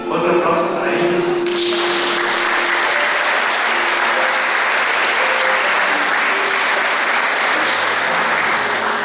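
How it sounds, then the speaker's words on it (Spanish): At a graduation ceremony, a crowd breaks into loud, continuous applause for the graduating students, a thick wash of clapping that holds steady after a brief opening moment of other sound. "Otro aplauso para ellos."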